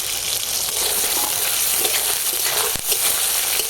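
Sliced tomato, chopped onion and slit green chillies fry in hot oil with whole cumin, giving a steady, close sizzle that runs throughout, broken by one brief knock near the end.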